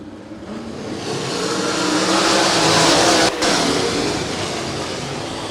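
Sprint cars at the start of heat race number 1 at a dirt track in Vinton, Iowa, a loud roaring engine wash that rises and swells as the field accelerates past, with a brief dip before the roar resumes.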